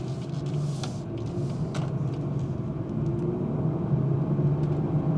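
A 2018 BMW 440i left in drive accelerates hard, its engine a loud, steady rumbling drone with rising road and wind noise inside the cabin.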